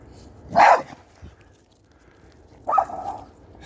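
A dog barks twice, a sharp bark and then a second, longer bark a couple of seconds later, heard at moderate distance over faint background noise.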